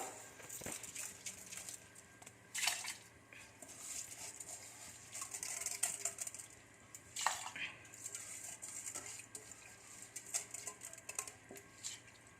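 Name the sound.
washed rice being put into a pressure cooker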